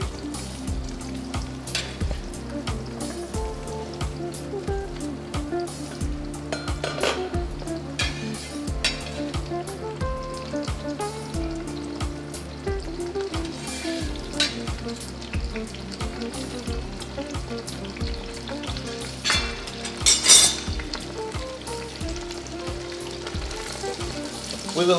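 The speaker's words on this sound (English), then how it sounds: "we will mix energetically like that." Onion and carrot sizzle steadily in a pot for celery soup and are stirred energetically. There is continuous frying hiss with repeated scraping strokes and clinks of a utensil, and no one speaks.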